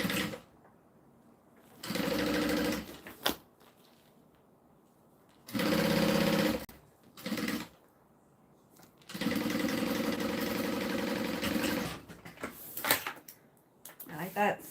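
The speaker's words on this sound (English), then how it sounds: "All right, let's sew our pocket shut." A sewing machine stitches a pocket shut in three separate runs: a short burst, a second short burst, then a longer steady whirring stretch, with quiet pauses and small handling clicks between them.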